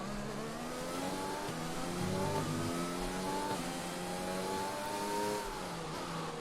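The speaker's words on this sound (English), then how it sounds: "He's over-revving it as well." Formula 1 race car engine in F1 2020 at the Dutch Grand Prix, over-revving in practice: a constant high-pitched whine that climbs and falls through several rev sweeps, moderately loud and steady, with no talk.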